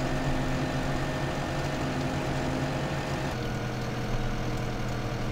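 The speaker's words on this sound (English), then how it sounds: "so that tractor is back." A tractor engine in the video game Farming Simulator 2015 runs at a steady low idle, a continuous rumbling drone with no talk over it.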